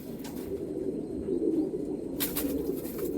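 Domestic pigeons coo in low, soft, repeated calls near the microphone, with a brief rustle or flutter partway through and no talking.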